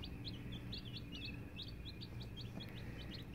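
Baby chicks, including olive egger and Americana chicks, peep in a rapid, continuous series of high chirps, close and steady over a low background hum, with no talk.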